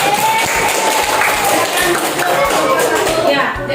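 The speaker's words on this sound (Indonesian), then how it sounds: "Nah, bagus, tepuk tangannya semua." A classroom of students applauds together, a dense burst of clapping with voices mixed in throughout.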